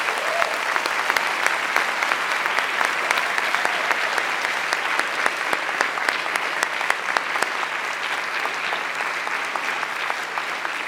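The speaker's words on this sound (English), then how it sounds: "Please, a warm applause for Chelsea Manning." Warm, sustained applause from a theater audience at the Stadsschouwburg Utrecht during a festival opening, a steady wash of many hands clapping throughout at an even, full level.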